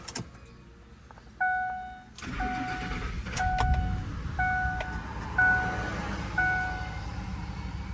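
A Ford F-150 with a cylinder 8 misfire cranks and fires up close by after a short pause, then runs at a rough idle while a warning chime beeps repeatedly in an even pattern over it.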